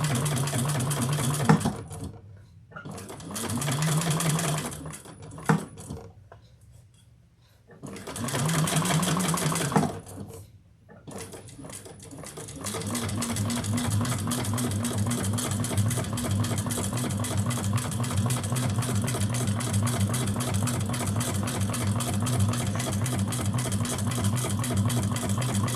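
Sewing machine running steadily as it stitches a seam on a bucket bag, with a few short starts and stops early on before a long, continuous, even whirr of stitching close by.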